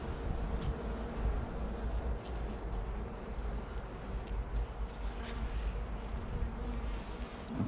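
Honey bees buzzing around a rented home beehive during a December winter treatment and feed-comb swap, a close, continuous droning hum with individual bees flitting past now and then over a low, steady background rumble.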